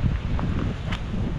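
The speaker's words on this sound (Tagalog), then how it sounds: "grabe ang hangin" Steady wind buffets the microphone beside a fishpond with a low rumbling roar and faint rustling throughout.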